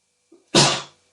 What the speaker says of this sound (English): I got a sneezing fit there, hay fever.